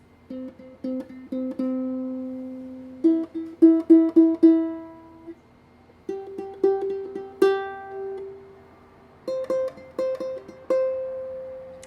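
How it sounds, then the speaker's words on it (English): Plucked ukulele notes play in short groups, moving from lower to higher pitches, with brief pauses between each set. "with my ukulele, we're going to do some lower sounds, some middle lower sounds,"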